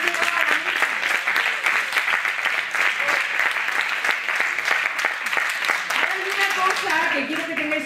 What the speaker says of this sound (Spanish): Un aplauso para esos que han ido.